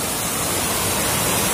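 A tall waterfall at Pincuran Tujuah, Lubuak Minturun, pours in a constant broadband roar, loud and close, with no voices or breaks.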